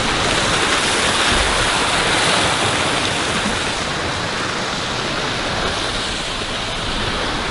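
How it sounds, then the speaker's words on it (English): A waterfall at the Gaia Hotel and Reserve near Quepos, Costa Rica, roars as a loud, steady, unbroken rush of falling water close by, with no voices. "And we have the waterfall right over here."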